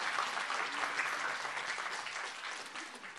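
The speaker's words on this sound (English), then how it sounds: "can we have a round of applause," Steady, loud round of applause from an audience at a youth debate competition, many hands clapping continuously throughout.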